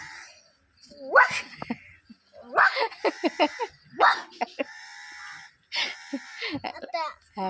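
A child mimics a dog's bark with a series of short, high yelping calls separated by brief pauses.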